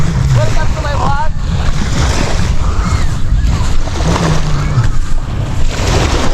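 Sea waves wash continuously at a beach resort shore amid strong wind buffeting the microphone, with voices talking faintly in the background.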